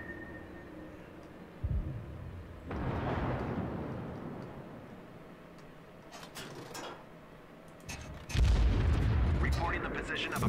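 Naval guns from warships in the World of Warships game fire in heavy booming salvos, with a first blast, a long rumbling roll, then a louder close burst near the end, over faint voice chatter.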